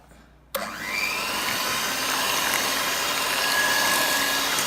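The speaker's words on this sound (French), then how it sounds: "je vais plutôt utiliser pour ma part un mixeur" An electric blender whirs steadily through crêpe batter after a short quiet start, a loud, continuous motor drone with no talking.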